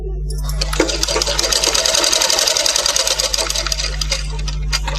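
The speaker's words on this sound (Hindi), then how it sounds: "ये आधा पार्ट यहाँ से हम सिलाई कर लेते हैं पहले" A sewing machine stitches fabric during tailoring, running steadily and loudly up close for nearly the whole stretch, with a brief start at the beginning and no pauses.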